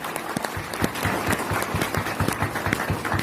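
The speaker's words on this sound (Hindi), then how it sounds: "एक बार जोरदार तालियां बजा दीजिए" Loud, steady applause from an audience at a business gathering, a dense run of overlapping claps sustained throughout without pause.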